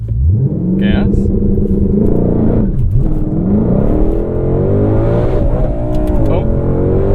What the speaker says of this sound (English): Launch control is a straightforward affair in the GT500.